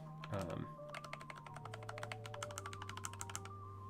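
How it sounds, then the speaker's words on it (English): Typing on a LeleLab Maxum65 low-profile mechanical keyboard, a quick run of crisp, close key clicks in a steady rhythm, heard alone over faint background hum. "for a low-profile keyboard, it sounds pretty darn good"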